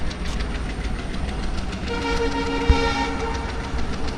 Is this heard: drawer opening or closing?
no